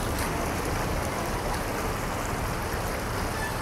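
Floodwater after heavy rain in Gadarpur, Uttarakhand rushes through a city street as a constant loud broadband wash, steady and unbroken like a stream, with no talk over it.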